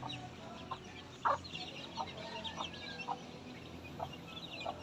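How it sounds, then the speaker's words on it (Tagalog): A backyard hen clucks outside beside her chicks, giving short, separate calls spaced irregularly over a steady outdoor background, moderately close and not loud. "Pinalabas na po namin ang aming alagang chicken at kasama ang kanyang mga anak."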